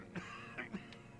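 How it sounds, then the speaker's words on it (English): A man in the video game Disco Elysium breaks into a coughing fit, three or four short rasping coughs in quick succession, fairly faint and close. "His hand shakes and he breaks into a coughing fit."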